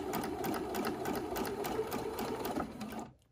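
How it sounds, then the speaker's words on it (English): A sewing machine stitches a straight seam across fabric for a rag doll horse, running in a fast, steady chatter of needle strokes before stopping abruptly near the end. "And I'm going to sew a straight line from this point all the way straight across to this point."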